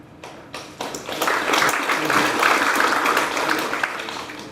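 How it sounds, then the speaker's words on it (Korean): An audience applauds at an award ceremony during a district office meeting, with steady, dense clapping that swells after a few sharp claps and holds for several seconds in a large room. "큰 박수로 축하해 주시기 바랍니다"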